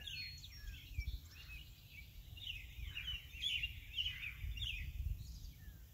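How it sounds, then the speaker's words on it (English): Morning birdsong in a garden, chirps and calls scattered across the stretch at moderate distance, with a blue jay nearby, over a steady low rumble of background noise. "Birds are happy this morning."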